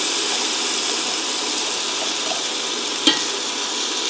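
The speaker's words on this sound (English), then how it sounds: "All right, I'm gonna add my garlic." Garlic sizzles in a pot as the base for broccoli cheddar soup: a loud, steady, hissing fry with a single brief clink partway through.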